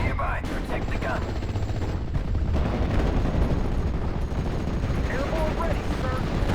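Battle gunfire in the World War II strategy game Steel Division: Normandy 44, set in Normandy hedgerows on D-Day: dense, continuous rattling shots and distant artillery thuds, with a voice barking briefly near the start.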